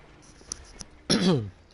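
A single rough cough or throat-clear lands loud and close on a microphone during solo game commentary, preceded by a couple of faint clicks and followed by quiet.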